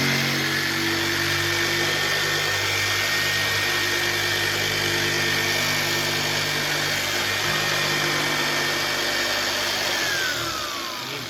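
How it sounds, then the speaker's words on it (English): Electric jigsaw rough cutting pieces for car trunk inlays, running steadily and loudly close up for about eleven seconds with a whining motor and buzzing blade, easing off at the very end. "I'm going to rough cut these with a jigsaw"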